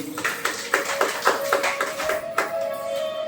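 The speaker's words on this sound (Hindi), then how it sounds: "एक बार जोरदार तालियां इनके लिए" Scattered hand claps from an audience at a Shrimad Bhagwat Katha religious gathering, a series of distinct claps at an uneven rhythm over a steady tonal hum, moderately loud and fairly close.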